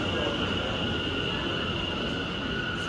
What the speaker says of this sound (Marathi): ही आली आमची train. Oops, sorry, not train, tube.